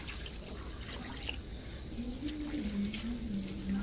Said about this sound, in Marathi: एक दोन पाण्याने स्वच्छ भाजी धुवून व्यवस्थित निथळून घ्यायची आहे